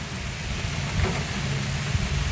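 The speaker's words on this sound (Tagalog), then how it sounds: "Maulan ngayon sa amin dito sa Camarines Norte." Heavy rain pours steadily in Camarines Norte during bad weather, a dense, even hiss with a low rumble underneath and no voices.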